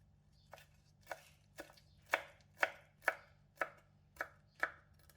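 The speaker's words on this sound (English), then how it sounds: "Chop 6 grams of parsley into smaller pieces." A knife chops parsley on a board in about ten sharp, evenly spaced strokes, close and clear with no talk.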